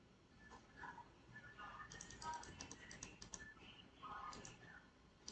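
Close, fairly quiet keystrokes on a computer keyboard in quick irregular bursts, with a voice talking softly underneath.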